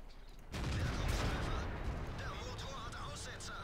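Heavy tank cannon fire in a World of Tanks team battle with a Tiger II and 110 opens with a loud boom, and a long rumbling blast follows as someone talks over it.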